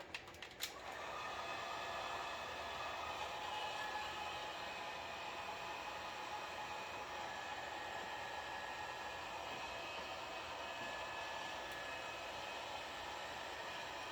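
A heat gun blows a steady, even whooshing hiss while tint film is applied to a Tesla Model 3 taillight, starting after a few brief clicks and running continuously at close range without speech.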